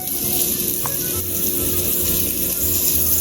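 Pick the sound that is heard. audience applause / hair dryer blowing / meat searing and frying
meat searing and frying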